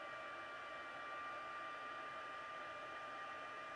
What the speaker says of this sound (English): heat tool. Okay, I'm going to make a little noise here.